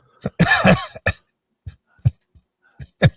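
A man coughs in a sharp burst, then follows with several short, isolated coughs and throat clears spaced across a few seconds, close and fairly loud, with no talk between them.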